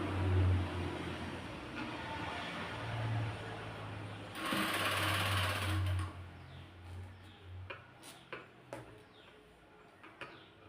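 Sewing machine stitching a folded seam while fitting a zip into a nightie, a steady close mechanical whir for about six seconds, then fading into scattered clicks and handling knocks.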